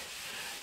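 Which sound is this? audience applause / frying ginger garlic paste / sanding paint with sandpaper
sanding paint with sandpaper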